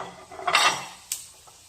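Egg noodles drop into hot oil in a wok for crispy noodles with beef and young corn, giving a brief bright crackling hiss that swells then fades, with a second short sharp burst a moment later.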